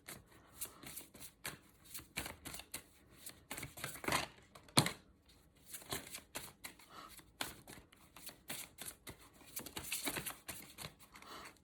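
Large tarot cards riffle and snap in repeated bursts of crisp flapping, close and fairly quiet, with brief pauses between shuffles.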